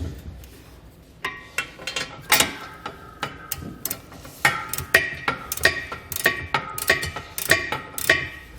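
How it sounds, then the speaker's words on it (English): A 21mm socket ratchet tightens the bolts of a Curt OEM 5th wheel hitch leg on a Chevy/GMC truck, giving repeated close, sharp clicking bursts in quick runs with short pauses between. "we're going to come back with a 21mm socket. We're going to go ahead and tighten those both down."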